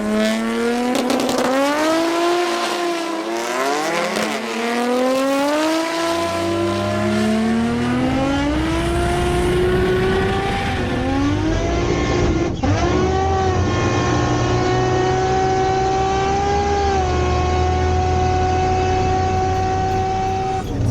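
Toyota Supra street car with a 2JZ-GTE VVT-i engine driving, its loud engine note climbing through repeated gear pulls and then holding a steady high drone, with no talk.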